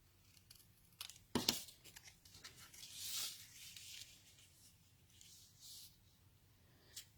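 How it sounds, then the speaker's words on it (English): Paper trimmed at the edge during crafting: a few faint snips and rustling paper sounds, with one sharper cut or rip early on, close and quiet with no talking. "I'm just going to trim the edge of this."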